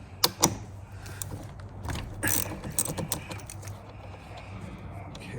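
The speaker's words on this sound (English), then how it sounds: "it'll be necessary to disconnect this lead first, and for that, I'll be using a 13mm wrench." Close, faint clicking and creaking of a 13mm wrench working loose the auxiliary battery lead on a Jeep, with a few sharper clicks near the start and soft mechanical ticks throughout.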